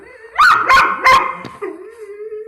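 A German Shorthaired Pointer barks three times in quick succession close by, followed by a softer whimpering whine that trails off.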